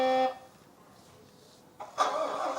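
A Fendt 1050 tractor horn gives a short, clear honk, followed by a quiet pause and then a louder, noisy burst of mechanical sound.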